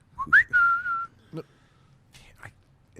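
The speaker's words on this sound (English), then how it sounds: "I can't whistle in my own house." A man whistles indoors at home, a short rising then sustained tone up close, followed by scattered quiet chatter and small noises.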